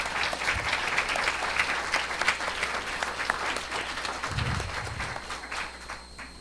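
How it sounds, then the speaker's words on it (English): Warm congregation applause for veterans during a church service, steady clapping throughout with a couple of low thumps partway through, tapering slightly toward the end. "Can we give them a round of applause?"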